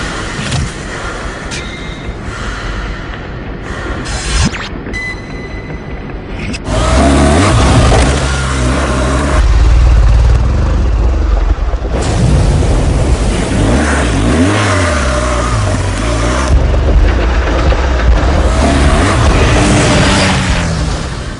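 A BMW R1200GS motorcycle (2014) engine accelerates hard, loud and close, its roar climbing through the gears with a sharp rise in intensity partway through and sustained throttle after.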